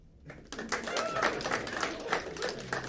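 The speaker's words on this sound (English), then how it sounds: "Clap your hands if you're 4." A small crowd at a comedy show claps their hands in a loose, scattered burst that holds steady for a couple of seconds, mixed with faint murmuring.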